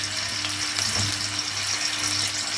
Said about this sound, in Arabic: نحط حبه زيت كده. وانزل هنا بقى بفصين معلقه توم حلوه كده.